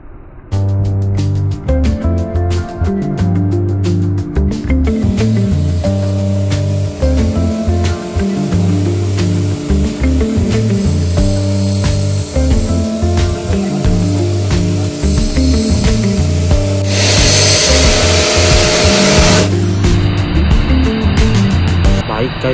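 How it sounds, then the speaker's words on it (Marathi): Foam water sprayed onto a GT650 motorcycle during a wash, heard as a short, loud hissing burst late in the clip over steady rhythmic background music. "आता फोम वॉटर मी आता स्प्रे करायला स्टार्ट करतो."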